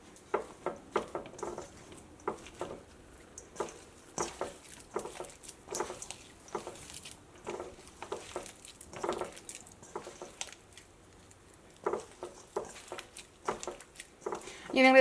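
Rice flour vada dough being mixed by hand in a bowl with curry leaves and turmeric, soft irregular squishing and patting strokes, close and fairly quiet, with a few light clinks.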